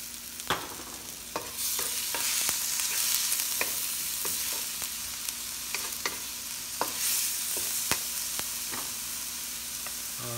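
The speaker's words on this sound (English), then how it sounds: "we're going to saute this for 30 seconds to 1 minute" Chopped onion sautéing in hot oil in a pan for lechon sisig, a steady close sizzle with occasional stirring clicks and scrapes of a utensil throughout.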